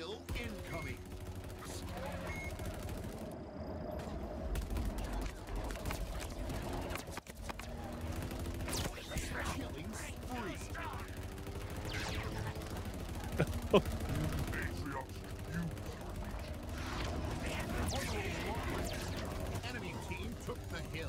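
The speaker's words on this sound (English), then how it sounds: "Or the mini gun, whatever you want to call it." A minigun turret in Halo Infinite multiplayer fires sustained rapid bursts under continuous game noise, steady and loud for the whole stretch while a player talks over it.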